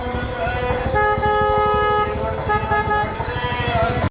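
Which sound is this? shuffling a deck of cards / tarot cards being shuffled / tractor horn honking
tractor horn honking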